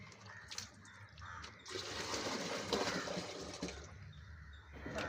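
Diluted rice-water mixture stirred with ash and water is poured and mixed as plant fertilizer, a gushing, sloshing flow that swells in the middle and then eases off, heard alone.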